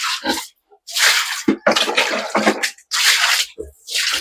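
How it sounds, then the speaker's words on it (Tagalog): Water splashes in loud bursts as the concrete floor of a pen holding a sow that has just given birth is hosed and scrubbed, with squishy wet sweeping between the pauses. "So yun lamang pong ano, sahig ang ating hinuhugasan dito."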